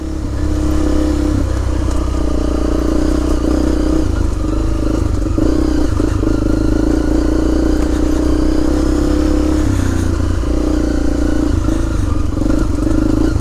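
A Honda CRF250L motorcycle rides along a green lane, its engine droning loud and close and continuous, with rough clatter from the trail and no clear speech.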